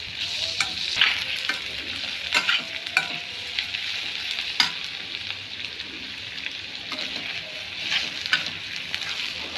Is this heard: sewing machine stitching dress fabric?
no